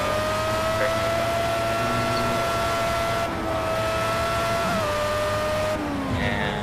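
Formula A open-wheel race car in Project CARS at the Nurburgring, its high engine note holding steady with a few quick shifts and pitch drops, loud and continuous throughout.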